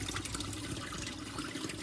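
Water pouring steadily into a washing machine for a load of clothes, a soft, continuous splashing rush at low volume with no voices.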